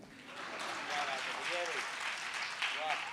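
An audience at a live Hindi comedy poetry show claps in a steady, dense round of applause, with a voice speaking over it.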